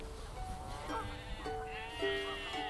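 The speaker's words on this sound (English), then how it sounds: "Sheep grazing on the salt marshes enjoy the lush grass and the warmth of the sun." Sheep grazing on coastal salt marshes bleat several times, the calls clear and fairly close over a soft outdoor background, with overlapping voices of more than one animal.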